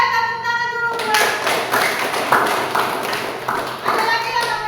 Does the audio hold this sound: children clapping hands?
yes